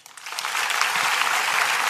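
A stand-up comedy audience in Italy breaks into applause, rising quickly from scattered claps to a dense, steady ovation that fills the room.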